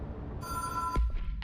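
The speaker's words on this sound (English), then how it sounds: "Answer the phone!" A telephone rings in the video game Control: a steady electronic ring begins partway in, then cuts off under a sharp thump and rustling, with another burst of noise at the end.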